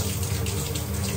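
Shower water running steadily, a dense loud hiss of spray filling the whole moment without pause.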